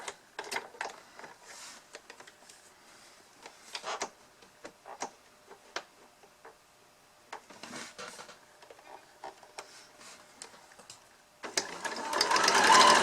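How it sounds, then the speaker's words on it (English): A sewing machine back-stitches fabric for a face mask, with bursts of quick rhythmic needle ticking separated by pauses, close and clear, ending in a louder rushing noise. "I'm going to back stitch."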